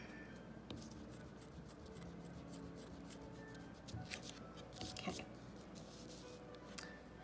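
An eraser rubbing over paper while tidying pencil lines on a drawing, a faint, close, scratchy rustle in short irregular strokes, with a few sharper scrapes midway.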